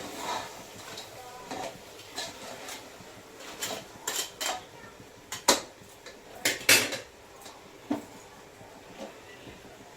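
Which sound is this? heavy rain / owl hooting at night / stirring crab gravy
stirring crab gravy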